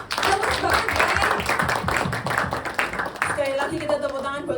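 A church congregation applauds during a worship service, a dense wash of clapping filling the space with voices mixed in; near the end a speaker's voice rises over the fading claps.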